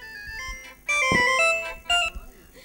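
A mobile phone ringtone plays during a school annual-day stage skit as a woman calls her husband, a bright melodic electronic tune in repeated phrases, loud and clear over faint hall background.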